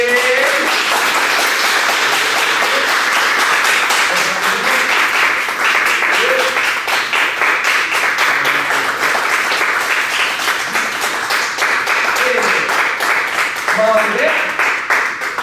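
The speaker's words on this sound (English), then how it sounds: "There's a big round of applause for Lainey" A sustained round of applause from a crowd at a black belt candlelight ceremony, dense steady clapping filling the whole stretch with a few voices cheering faintly underneath.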